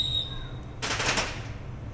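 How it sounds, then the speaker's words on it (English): Fireworks as a sound effect give one fast crackling burst of pops lasting about half a second, loud against a quiet background hum, with no talk. "Fireworks."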